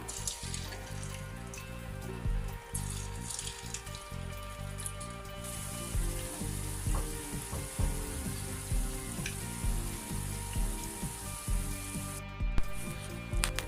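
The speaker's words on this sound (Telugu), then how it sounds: "బోన్లెస్ చికెన్ని, దాన్ని నేను ఇప్పుడు డీప్ ఫ్రైకి సరిపడా ఆయిల్ పెట్టుకొని ఫ్రై చేసుకుంటున్నాను" Marinated boneless chicken for Hyderabadi-style Chicken 65 biryani deep fries in a pan of oil, giving a steady, crackling sizzle with bubbling pops and occasional clinks, heard up close with no talking.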